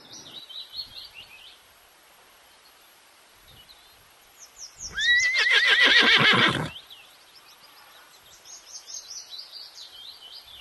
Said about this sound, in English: H. H for horse.